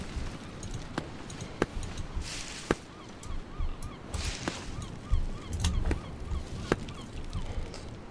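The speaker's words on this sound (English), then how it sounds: "how am I supposed to get past the seagull?" Seagull in a video game set in tall mountains, calling with repeated honking, goose-like squawks in short bursts over a busy game soundscape, moderately loud and close.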